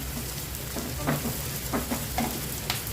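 Veg chowmein with black pepper is stirred in a pan over a constant loud sizzle, with several rhythmic scraping strokes of the spatula and no speech.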